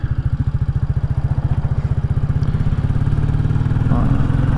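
A Royal Enfield Classic 350 motorcycle rides a dual carriageway toward Ross-on-Wye in Wales, its engine a loud, close, rapid rhythmic thumping that holds steady and swells slightly near the end.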